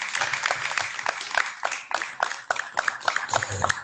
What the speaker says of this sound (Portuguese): Forte salve de palmas para o nosso preletor.